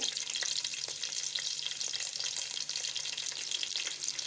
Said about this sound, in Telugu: ఇలా ఆయిల్ అయితే మంచిగా వేడైన తర్వాత ఇందులోకి పచ్చిమిర్చి అలాగే పచ్చి శనగపప్పు